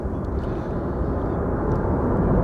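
Airliner landing at Amsterdam Schiphol Airport with thrust reversers deployed, a loud, steady broadband engine roar that swells slightly toward the end, close by and continuous with no talk.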